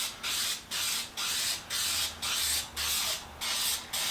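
High-temperature paint hisses from a spray can onto a cast iron chiminea in a run of about eight short, evenly spaced bursts, each a loud, close hiss separated by brief pauses.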